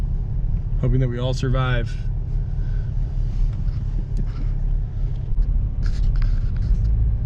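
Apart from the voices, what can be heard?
Subaru Outback driving on test drive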